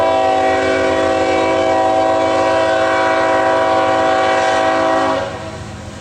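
A Norfolk Southern train passes slowly through Rural Retreat, Virginia, sounding its horn in one loud, sustained, close blast that cuts off near the end and leaves a lower rumble of the moving train.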